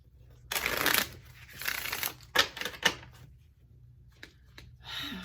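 Brisk bursts of tarot card shuffling, a couple of longer riffles followed by short sharp snaps, close up, with faint low hum underneath and no talk.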